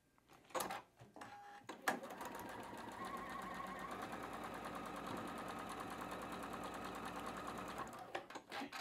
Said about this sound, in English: heading on over to the machine for another 1/4-inch seam allowance.